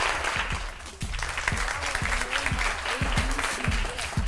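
An audience applauds at a quiz competition match, brisk continuous clapping with rhythmic hand claps up close and cheering voices mixed in.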